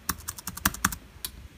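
Keys tapped on a ThinkPad T470s laptop keyboard, a quick close run of about eight sharp clicks with a short pause before the last one, recorded in a quiet room.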